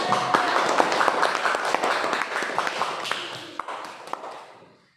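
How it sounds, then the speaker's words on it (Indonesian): Classroom of students clapping for a student group after a presentation, a brief burst of uneven, close hand claps with a few sharp louder slaps, tapering off quickly into silence. "Kita beri tepuk tangan."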